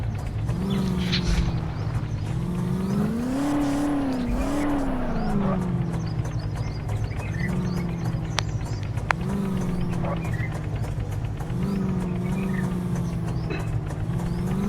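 A stuck auto rickshaw's engine revs while reversing, its drone rising and falling in repeated surges over about fifteen seconds, with occasional mechanical clicks and no talk.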